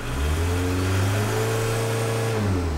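Car engine fitted with a VNT turbo revving as the throttle opens, a loud steady drone that climbs gradually in pitch with no voices over it.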